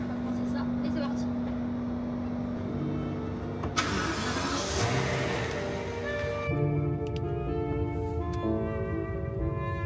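A car engine cranks and catches, then settles into a steady running hum, close and fairly loud, with a brief rising burst of noise near the middle and speech heard over it.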